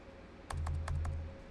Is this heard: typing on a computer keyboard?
yes